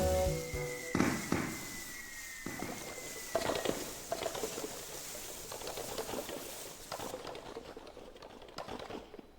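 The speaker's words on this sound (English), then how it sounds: "Everybody away from the fireworks." In the video game Lil Gator Game, fireworks go off in a series of sharp crackling bursts and pops near the listener, with a rising whistle early on and a rumbling tail.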